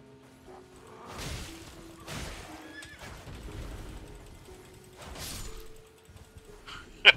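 A horse in Elden Ring whinnies and snorts in several loud bursts, mixed with clattering hooves and creaking mechanisms, ending on a sharp crash.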